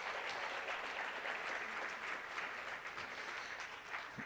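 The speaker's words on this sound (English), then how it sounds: "a round of applause for Gitcoin" Steady applause from a conference audience on an outdoor stage at a blockchain developer event, a dense field of clapping holding evenly for several seconds at moderate distance, with no voices over it.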